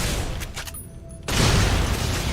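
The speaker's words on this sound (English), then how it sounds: "I love that explosion." A plasma explosion in the video game Fallout: New Vegas, a sudden loud burst that cuts in after a brief lull and holds as a dense, roaring wash of noise with no talk over it.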